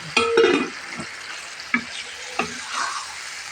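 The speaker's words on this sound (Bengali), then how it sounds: "মশলাটা কষানো হয়ে গেছে এখন আমি মাছটা ঢেলে দেব" Poa fish slides into sizzling spice masala in a pan, heard as a burst of hissing and clatter, then a couple of sharp knocks and soft frying crackle, with no talking.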